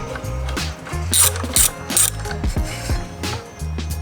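Rapid ratchet clicking while loosening the brake caliper bolts on a Triumph Tiger 800 XRX motorcycle, in several close, loud bursts separated by short pauses.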